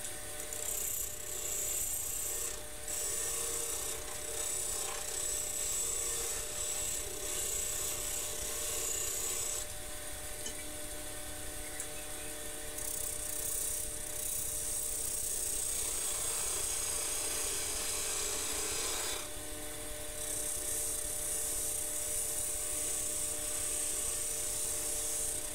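Pear shape being turned from wood on a lathe, a steady motor hum with continuous scraping and rasping of the tool against the spinning workpiece, shifting in pitch as cuts change; no voices.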